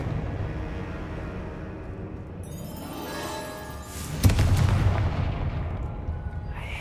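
A magical blasting spell in Hogwarts Legacy erupts as a loud, booming explosion midway through, preceded by rising crackling energy and followed by a rumbling tail.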